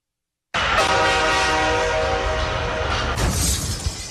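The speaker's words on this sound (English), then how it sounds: "That's the IRS train wreck of the week you just heard." A train horn sound effect bursts in loudly after a brief silence and holds a long, blaring blast, then a sharp crash-like shatter cuts in near the end over the fading tone.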